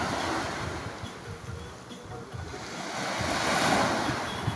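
Sea surf washing onto a white-sand beach, a continuous rushing wash of waves that swells gradually, with wind buffeting the microphone and no talking.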